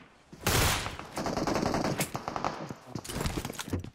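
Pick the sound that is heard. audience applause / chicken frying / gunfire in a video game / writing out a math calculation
gunfire in a video game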